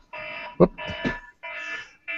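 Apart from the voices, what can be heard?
alarm beeping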